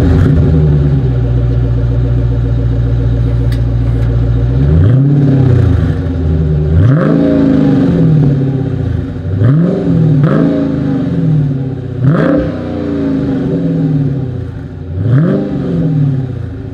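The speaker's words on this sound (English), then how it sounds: "here is that exhaust clip" A 2021 Dodge Challenger Scat Pack V8 idles with a deep burble, then its exhaust roars through five sharp revs spaced a couple of seconds apart, each falling back to idle, loud and close with no talk.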